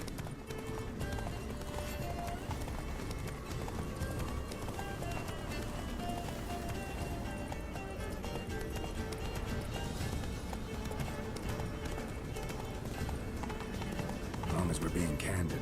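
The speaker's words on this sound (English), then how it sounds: "Run, Roach" Roach the horse gallops in The Witcher 3: Wild Hunt, a steady clip-clop of hooves running continuously under game music and voices talking.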